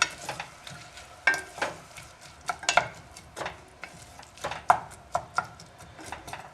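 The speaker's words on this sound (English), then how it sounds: "Give everything a stir." Bean soup ingredients are stirred in a pot, with a spoon scraping and knocking in an uneven rhythm of about a dozen short strokes over a soft simmering background.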